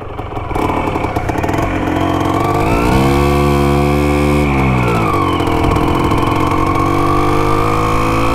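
Restored Can-Am vehicle engine running loud and close, holding a steady rough idle whose pitch dips and climbs midway before settling again, with no talk over it.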